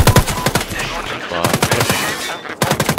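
Rapid bursts of automatic gunfire in Sniper Ghost Warrior 3 rattle close and loud, clustered volleys separated by short pauses, with a final burst at the end.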